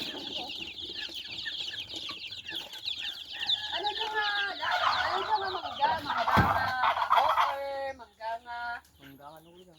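Chickens on a family farm in Igbaras, Iloilo cluck and squawk in a busy, overlapping chorus, with a short bark-like call and a person speaking briefly toward the end.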